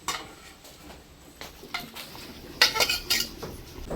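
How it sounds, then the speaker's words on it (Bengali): Singi fish cooked with taro stems being tipped into a cooking pot, a few close metallic clanks and scrapes of utensils against the pot with soft splashy rustles, louder toward the end. "এখন আমি মাছগুলি ঢেলে দেবো।"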